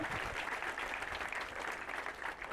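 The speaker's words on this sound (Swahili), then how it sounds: "tumuhurira makofi mega" Applause at a send-off ceremony, a dense, steady crowd clapping that holds loud and even throughout without pauses, with no talking over it.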